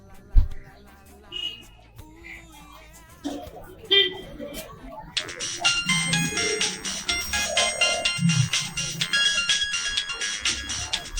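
A phone ringtone starts partway through and rings on steadily as a bright, repeating electronic melody, loud and close, after some earlier scattered sounds and movement.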